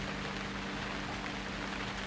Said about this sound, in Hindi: बारिश भी क्या टाइम पे स्टार्ट हुआ